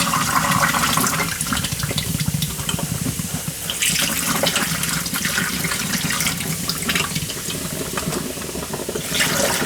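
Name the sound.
baking soda and water fizzing on battery plates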